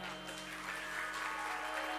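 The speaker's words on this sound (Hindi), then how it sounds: "एक बार सुंदर तालियां।" An audience claps together at a Ram Katha religious gathering. The applause is a sustained, even wash that fills the full two seconds and sounds moderately distant.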